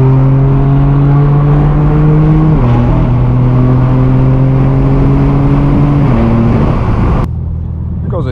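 A loud car idles and drones steadily close by at a Los Angeles car meet, its engine tone stepping down twice before fading as a BMW G82 M4 Competition and other cars pass.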